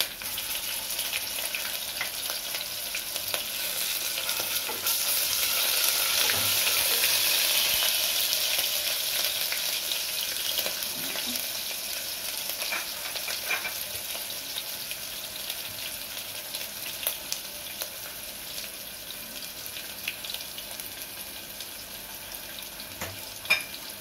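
Ginger garlic paste sizzles in a hot pan for a chicken fry, hissing steadily at close range. The sizzle swells for a few seconds and then eases. Occasional stirring clicks are heard, and no voices.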